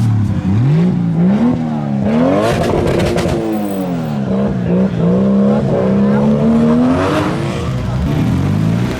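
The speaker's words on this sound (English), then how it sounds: "a Fiesto's just done a burnout" A Ford Fiesta doing a burnout at a modified car meet in a car park, the engine revving hard and rising and falling in pitch as the tyres squeal, loud and close.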